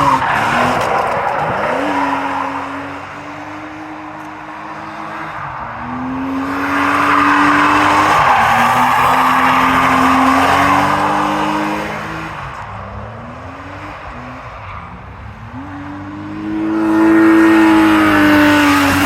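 A silver coupe drifting at Driftland UK, its engine revving in repeated rising surges while the tires squeal and skid loudly through the slides, close and continuous.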